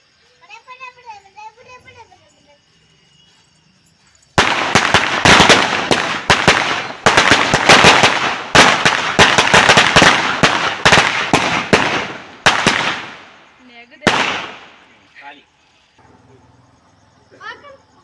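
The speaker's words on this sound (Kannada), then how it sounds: "ಸೊ ಫೈನಲಿ ನೋಡಿ ಎಷ್ಟು ಪಟಾಕಿ ಹೊಡೆದಿದ್ದೀವಿ" Children's voices, then a long barrage of firecrackers at a Lakshmi Puja celebration bursting in rapid crackling volleys, loud and close, ending with a few last scattered pops.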